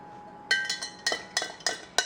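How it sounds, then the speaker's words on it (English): A spoon stirring turmeric chai tea in a cup, several bright clinks of metal against the rim in quick, uneven succession, close and clear with no talking. "like I said, maybe a couple teaspoons, a tablespoon. And stir it up."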